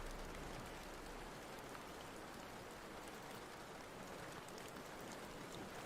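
Rain falling outside at night, a steady soft hiss of drops, constant and faint with no voices.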